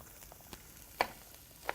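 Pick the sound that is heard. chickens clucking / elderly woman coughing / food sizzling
food sizzling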